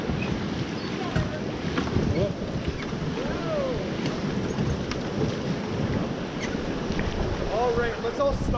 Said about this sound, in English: So putting those paddles in, pushing water away from us.